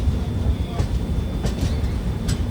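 A Vande Bharat train rumbles steadily close by, a low continuous roar of rolling carriages with a few faint higher clanks over it.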